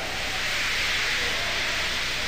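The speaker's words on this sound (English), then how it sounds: "He just let off steam feebly." A steam engine letting off steam: a steady, even hiss that holds at constant strength for a couple of seconds, alone with no voices.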